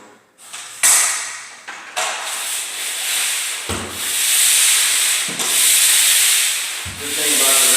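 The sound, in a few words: round sander sanding a painted wall between coats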